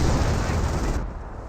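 Rear machine gun on a half-track in the Company of Heroes video game, firing a dense, continuous burst of gunfire amid battle noise, loud and steady before easing slightly near the end.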